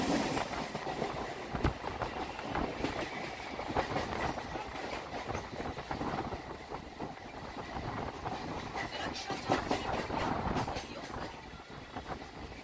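A Barddhaman-Howrah super local train runs through Bally station on the chord line without stopping, its wheels clattering and rumbling steadily and loudly throughout.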